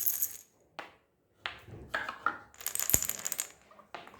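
A handheld sound box being shaken for a hearing matching game, giving bursts of rattling and clattering with short pauses between shakes, close and fairly quiet.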